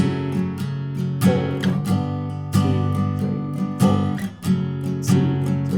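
Guitar strumming chorus chords, steady rhythmic strums with regular accented chord changes, close and alone with no talking.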